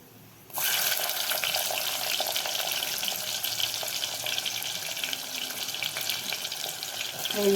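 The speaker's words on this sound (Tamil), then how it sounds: "வெங்காயம் எண்ணெயில் நல்லா முழுன்னு வேகுது பாருங்கள்." Onions frying in hot oil in a clay pot, sizzling loudly and steadily after a sudden start, with a continuous crackling hiss and no talk.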